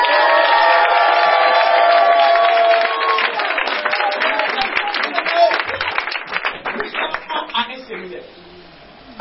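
A church congregation at a sermon claps and cheers loudly in a dense burst of applause, which thins into scattered claps and fades away near the end.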